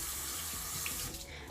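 Hot water runs steadily from a bathroom tap into a sink, a continuous close hiss with a brief dip near the end.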